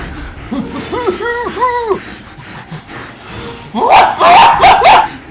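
A dog barks in the horror video game Outlast. Several arching barks come in a quick run, then a louder cluster follows after a pause, close and sharp, with someone talking faintly nearby.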